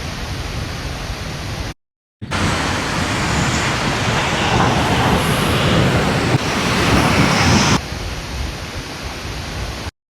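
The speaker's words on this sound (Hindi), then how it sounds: "वाटरफॉल है, जरूरी है भाई फुहार।" A waterfall throws mist spray on a mountain hiking trail, a steady loud roar of rushing water that continues without a break and without voices.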